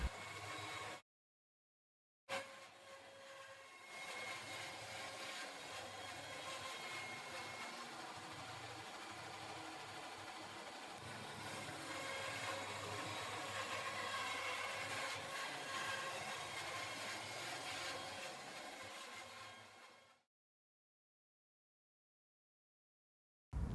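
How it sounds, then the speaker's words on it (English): A bandsaw cuts the final round shape of a wooden coffee table top that pivots on a pin jig. The motor and blade give a steady, loud whir for about eighteen seconds, with short silences before and after. "Cut the final shape of the coffee table on the bandsaw."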